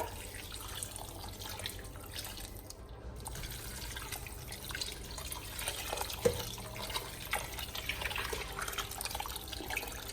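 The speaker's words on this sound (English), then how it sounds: "Now I'm gonna fill this to the top with water." Tap water runs into an 11-litre pot being filled for a medicinal broth, a steady close gush and splatter that builds as the pot fills, with no voices.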